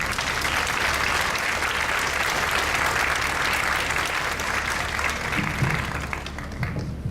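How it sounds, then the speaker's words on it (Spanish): Sustained, dense applause from an audience at a ceremony held by the Veracruz women's institute, steady and loud throughout before thinning slightly near the end. "Un aplauso, por favor."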